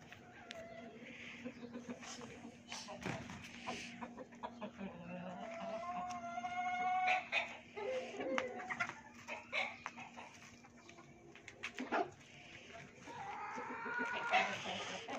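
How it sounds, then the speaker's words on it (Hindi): A hen clucks in scattered, fairly close bursts at a home outside an imam bargah in Wah Cantt, with other bird calls and some voices in the background. "ये मुर्गी। आपको अच्छी लगती है?"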